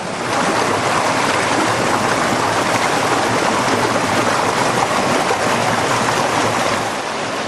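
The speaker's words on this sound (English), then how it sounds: "all that meltwater off of the snows of the Sierra Nevada" Sierra Nevada snowmelt rushes through a small channel in Spain, a loud, close, continuous gush of flowing water with no talk.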